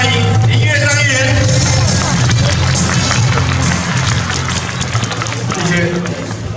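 Applause at an outdoor school sports day for the 29th anniversary of an elementary school, welcoming a councillor: loud, close crowd clapping and babble mixed under an amplified announcer's voice, continuous for several seconds.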